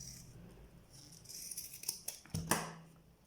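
Scissors snipping cord for a handmade flat cord sandal, a few quiet crisp cuts and small rattles building toward two sharper snips near the end, close and faint.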